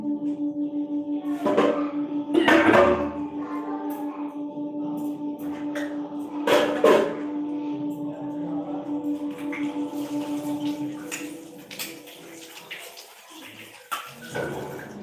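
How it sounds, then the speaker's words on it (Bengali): A metal kitchen spatula is rinsed under a running tap, and water splashes in short bursts over a steady background hum. "চলো এই খুন্তিটাই ধুয়ে নেব"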